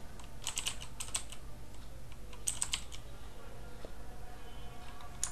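Typing on a computer keyboard: irregular clusters of light, crisp key clicks in short bursts, fairly close but quiet, with a low background hum.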